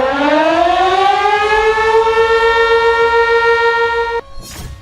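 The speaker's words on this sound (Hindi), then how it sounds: "आज की रात लाहौर, कराची और रावलपिंडी में सायरन बजेंगे।" An air raid siren wails loudly with a single sustained tone that rises gradually in pitch, then cuts off abruptly near the end, followed by a brief burst of noise.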